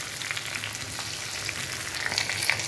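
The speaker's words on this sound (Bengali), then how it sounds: "পেঁয়াজ দিয়ে দিলাম, এখানে আদা রসুন ছেঁচে দিলাম" Onion with crushed ginger and garlic frying in a village-style kitchen makes a soft, continuous crackling sizzle heard close by, with light stirring scrapes and no talking.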